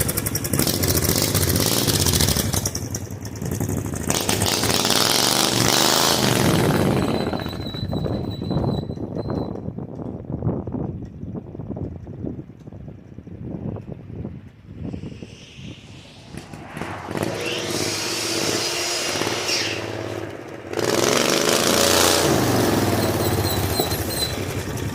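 An 18 hp V-twin minibike engine runs on its first cold start of the year, a loud rough rumble that drops to a quieter, uneven idle midway before revving back up strongly near the end.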